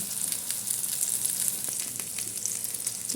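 A chicken burger patty fries in a pan with a steady, close hiss of bright sizzling crackle and small pops throughout, no voices.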